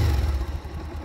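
Motorcycle engine at a low mid-pitched idle with a slight surge as the handlebar throttle is twisted, a steady close rumble that eases back down toward the end.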